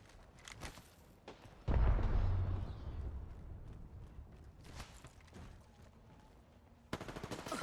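Bursts of gunfire in the video game Apex Legends, with sharp rapid shots, a heavy booming blast partway through that fades out slowly, and more scattered shots near the end.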